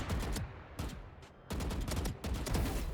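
Automatic gunfire in the video game Valorant, rapid, loud volleys in three or four bursts with short pauses between, no talking.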